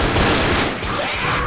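Rapid, dense bursts of gunfire in Left 4 Dead, a loud continuous volley of overlapping shots with no pauses, close and filling the whole moment.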